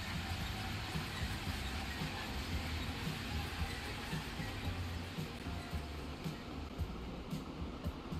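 Freight trains run along the line in the transport simulation game Transport Fever 2, giving a steady, moderate rolling rumble with faint rhythmic wheel clatter throughout.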